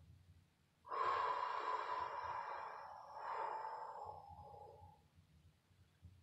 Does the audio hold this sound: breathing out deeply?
yes